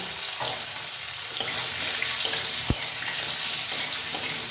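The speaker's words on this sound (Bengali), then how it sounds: "এই গরম তেলে একটু জিরা করম দিয়েছি এবার আলুগুলো ছেড়ে দিয়েছি" Potatoes dropped into hot oil with cumin seeds, a steady bright sizzle with occasional sharp pops and scraping stirs, close and continuous.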